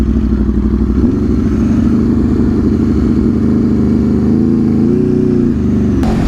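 A 2022 Aprilia RSV4 sportbike with an Austin Racing exhaust riding past at steady speed, its engine note loud and continuous, with a brief shift in pitch near the end and no talking.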